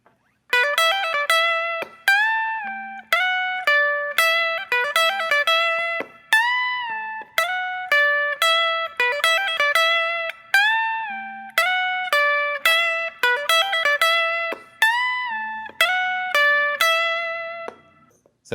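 Electric guitar plays the riff from a song alone, a bright repeating phrase of high picked and hammered notes cycling steadily through the whole stretch with clear sustain and no talking.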